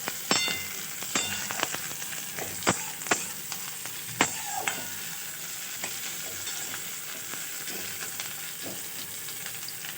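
Onions and green chilies fry in a pan, a steady soft sizzle broken by sharp clinks and scrapes of a spoon stirring, close up, with no talking.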